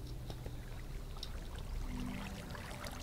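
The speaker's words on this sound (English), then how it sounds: "Yeah, this is a waterfall we saw." A steady rushing of water from a waterfall in the game Minecraft, a continuous even wash of noise heard up close with no break through the whole stretch.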